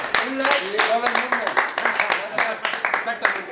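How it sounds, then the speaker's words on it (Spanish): Clapping in a small group during a metal music interview, rapid rhythmic claps under overlapping voices and laughter, close and steady throughout. "¡Aplausos!"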